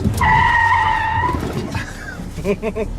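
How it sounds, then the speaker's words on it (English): A car braking hard to a fast stop, tires squealing in a sustained skid with a high whine, close and loud, followed by rattling engine pulses as it settles. "if you have to come to a really fast stop, use all the brakes in this car"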